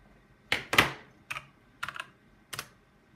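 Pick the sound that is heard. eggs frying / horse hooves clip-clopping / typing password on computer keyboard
typing password on computer keyboard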